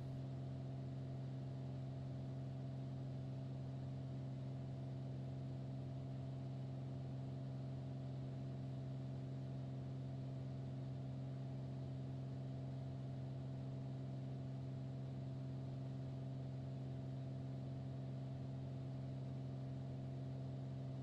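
A Cessna 172's engine drones steadily in flight during an instrument approach: an unbroken, even hum with no change in pitch or level for the whole stretch.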